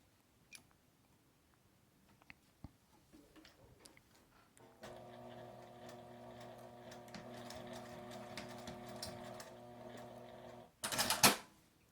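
Domestic sewing machine stitching along the fabric edge of a 50×50 cm cushion cover near a zipper. A few faint clicks come first, then a steady whirring hum with rhythmic ticking, and a short loud burst at the end.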